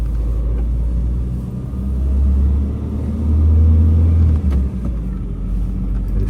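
A 1973 Citroen DS Super 5 driving on a road: a steady low engine rumble that swells twice as it accelerates, heard from inside the car, close and continuous.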